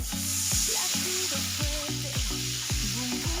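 Chilli garlic coriander paste with turmeric sizzles in hot oil after water is poured in, making a loud, steady crackling hiss close by, with melodic music playing underneath.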